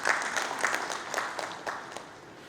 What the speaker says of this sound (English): Dear all, please give a huge round of applause for yourself.